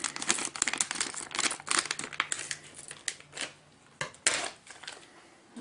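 Sealed plastic packaging around a Western Digital hard drive being cut and torn open, with loud crinkling and crackling bursts in quick irregular succession, close up with no talking.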